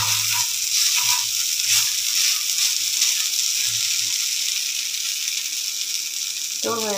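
Sliced potatoes for aloo bhaji fry in a pan with a steady, bright sizzle throughout, punctuated by soft scraping and stirring clatters from a utensil, with a brief sharper scrape near the end.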